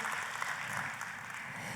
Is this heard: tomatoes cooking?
no